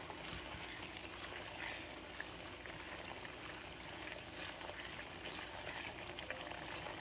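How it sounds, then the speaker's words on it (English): Water bubbling at a low boil in a pot of rice pilaf, a steady faint simmering crackle with no voices. "you're going to want to test it after that water is boiled out"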